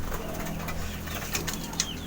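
Racing pigeons in their home loft, with a low steady coo and faint flutter running under a broad outdoor hiss, plus a couple of brief sharp chirps from nearby birds.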